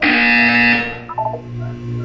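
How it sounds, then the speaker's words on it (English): An electronic buzzer in the Portal 2 video game blares with a harsh, loud tone, then cuts to a few brief softer electronic blips over a low hum. "You will hear a buzzer. When you hear the buzzer, look up at the ceiling."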